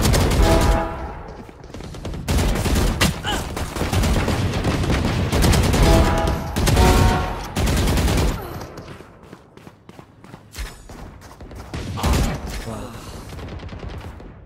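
Rapid bursts of gunfire in a shooter video game, loud automatic volleys in several clusters, with a headshot landing during the fighting.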